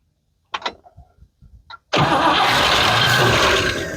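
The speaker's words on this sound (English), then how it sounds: "Okay, go ahead and crank it." A drag car engine cranks with a few short whirring bursts, then catches and roars into a loud, steady running rumble, close by and without talk.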